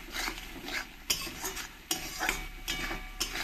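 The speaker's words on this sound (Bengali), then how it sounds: "ভালো করে মশলাটাকে আমি কষিয়ে নেব।" Spice paste with salt and turmeric is stirred and fried in a pan for a fish curry, a soft sizzle broken by sharp, repeated scrapes of a spoon against the pan, close and alone.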